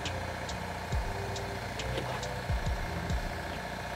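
A Volvo 240 engine idling with a steady, rhythmic ticking from the valvetrain caused by a bad exhaust valve, close up and continuous, with no voices.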